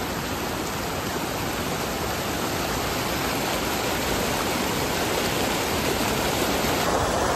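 Ethipothala waterfall in Telangana running at a moderate, normal flow, a steady close rushing roar that fills the whole stretch without a break and with no voices.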